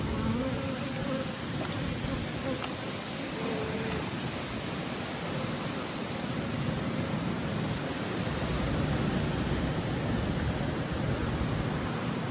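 Dense, steady buzzing of a large mass of honey bees in a swarm trap, up close and unbroken, with a continuous hiss-like drone and no voices.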